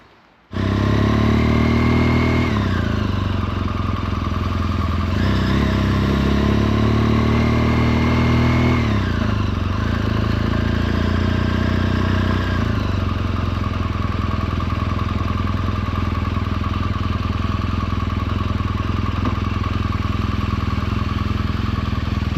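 A motorcycle engine runs steadily and loudly up close, with a few rev rises and falls early on before settling into a constant drone, heard on a mountain trip in the Vosges, France.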